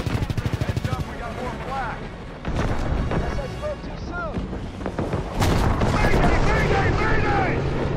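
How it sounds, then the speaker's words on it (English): Battle sounds from the video game Call of Duty: WWII: dense, loud explosions and bursts of gunfire pile up and grow heavier over several seconds, with rumbling booms and crackling shots layered together. "Lots of explosions."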